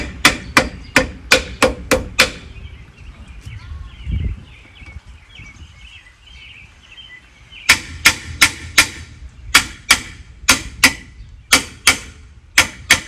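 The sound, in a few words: hammering on metal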